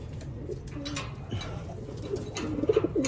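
Pigeons cooing in a loft, soft repeated coos growing livelier toward the end over a steady background murmur.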